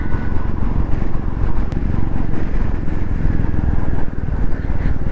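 A motorcycle on a highway in Punjab, its engine and wind noise forming a loud, steady rumble heard close up throughout, with no clear gaps.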